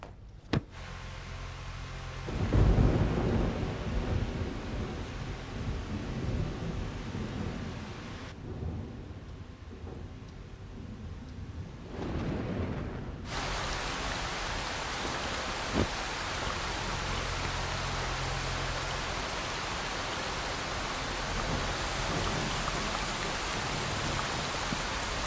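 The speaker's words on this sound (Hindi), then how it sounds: "अप्रैल में ऐसी बारिश कभी नहीं होती." Heavy April rain pours steadily with deep rolls of thunder, a dense, constant roar of rainfall throughout, with a louder rumble early on and no voices.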